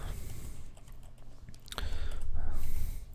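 Computer keyboard typing while entering an address into alarm integration software for a Satel Integra system, heard as quick, close clicking keystrokes with some irregular bumps and no talking.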